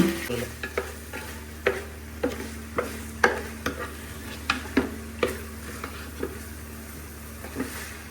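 Chicken pieces being stirred into masala in a pot for Palakkad-style biriyani, with repeated scraping spoon strokes in an uneven rhythm over a steady low sizzle, close and moderately loud, no voices.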